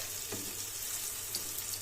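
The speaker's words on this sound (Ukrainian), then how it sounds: "І так я буду смажити всі." Food sizzles quietly in a frying pan in a home kitchen, a faint steady crackle and hiss with no talking.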